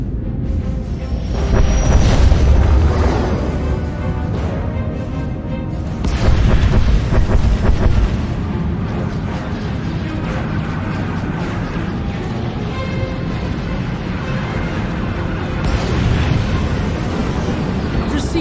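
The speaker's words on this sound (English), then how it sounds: "Proceeding with bombardment, targeting infrastructure and industrial objectives only." Space fleet bombardment in Star Wars: The Old Republic, with heavy rumbling explosions and booming blasts rolling continuously, loud and deep, swelling in waves, with a commanding voice speaking over the din.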